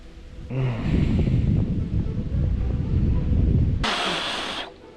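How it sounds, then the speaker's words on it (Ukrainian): Outdoor wind gusting into the microphone, a heavy, continuous low rumble with a brief brighter hiss burst near the end. "Вітер, будь ласка, перестань дуть."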